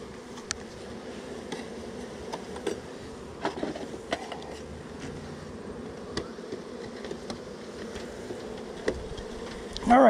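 Bees swarm and buzz around an opened beehive during a hive check, a steady close drone with brief louder passes near the end.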